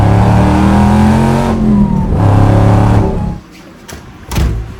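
A supercar engine in a Los Angeles collection revs hard to high RPM in two rising, screaming pulls. It then drops away to a low murmur broken by two short, sharp blips, all loud and close with no voices.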